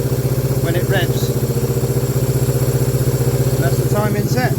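Motorcycle engine running steadily with a strong low rumble after its ignition points and timing have been set, revving smoothly and responsively up close, with faint talk over it.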